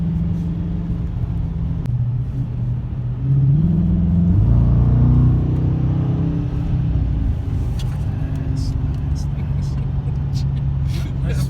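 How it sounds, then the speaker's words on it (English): A 2017 Dodge Challenger R/T Plus V8 muscle car gives a throaty, deep engine rumble that swells in a brief rev, then settles to a steady drone, with faint ticking and clicks near the end. "It's a nice throaty, torquey motor."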